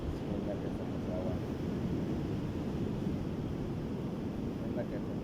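Ocean surf at the shore, a constant rushing roar of waves mixed with wind noise, even and unbroken from start to finish, moderately loud and close.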